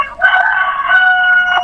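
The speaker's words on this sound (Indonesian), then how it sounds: "Ada ayam." A chicken crows close and loud in one sustained, wavering call that fills the moment.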